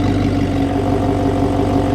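Audi R8 V8 idling with an Fi active exhaust fitted and its valve open, a steady, loud, deep rumbling burble held evenly throughout with no voices.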